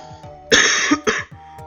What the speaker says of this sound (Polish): Kaszlnęło mi się, czekaj.